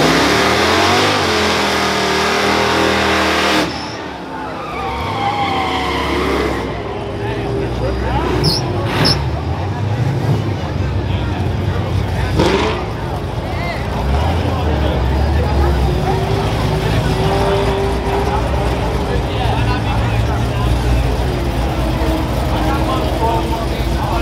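A drag race car launches and accelerates hard down a NASCAR track, with loud engine revving and roaring that rises and changes pitch over a long run, close and steady throughout.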